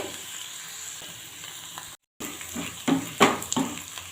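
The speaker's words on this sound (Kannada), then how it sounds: "ಈಗ ನಾನು ಕೊತ್ತಂಬರಿ ಸೊಪ್ಪನ್ನು ಹಾಕ್ತಾ ಇದ್ದೇನೆ ಚೆನ್ನಾಗಿ ಫ್ರೈ ಆಗಲಿ" Coriander leaves sizzle and fry in an oiled pan for chicken soup, a steady hiss broken by a brief dropout, then louder scraping stirs and crackles toward the end, no talking.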